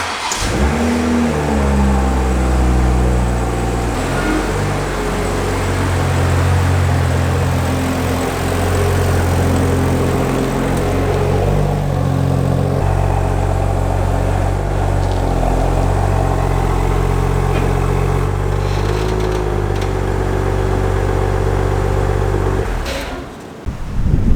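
A BMW X3 M40i fitted with new wheels drives outside, its engine a loud, close, continuous rumble that rises and settles while the car pulls out, ending abruptly.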